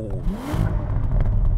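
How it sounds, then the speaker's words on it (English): Bentley Mulliner Bacalar engine blipped at standstill in neutral, sport mode, giving a loud rising rev that drops away, with crackling exhaust pops and turbo whoosh, then a steady throaty idle with scattered pops. "that whoosh from the turbos. It sounds mega."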